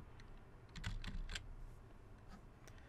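Keys on a computer keyboard are typed in a quick, irregular burst of soft clicks while a password is entered, then a couple of isolated taps follow, quiet and close.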